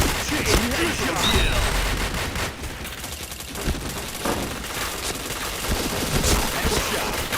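Rapid video game gunfire, dense bursts and volleys of shots in a shooter with headshot kills, loud and continuous for the whole stretch, with a voice talking over the shooting.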